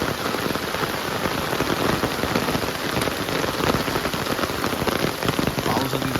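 Heavy monsoon rain pours down in rural Konkan, a dense, steady hiss of drops striking the ground and surfaces nearby, continuous throughout with no voices.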